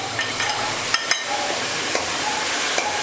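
Chopped tomatoes sautéing in a pan for paruppu urundai kuzhambu, a steady gentle sizzle with a few sharp spoon clicks against the pan.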